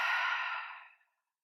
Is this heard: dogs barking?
no